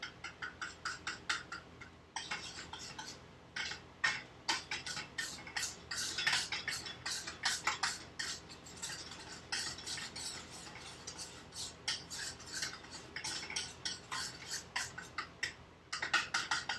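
Drawing salve blackened with charcoal stirred in a pot, quiet rhythmic scraping and clinking strokes repeating steadily throughout, close and alone.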